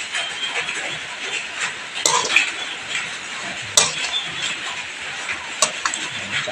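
Chicken with turmeric leaves is stir-fried in a pan: a constant bright hiss of frying, with a few sharp spatula scrapes and clacks at intervals.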